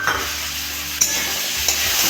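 Beans and peas hit a hot pan of mixed winter vegetables and sizzle loudly and steadily up close, with a couple of brief stir clatters.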